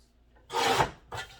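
A paper trimmer slices cardstock for a pop-up card in two quick rasping strokes, the first longer and the second shorter, close and crisp against a quiet background.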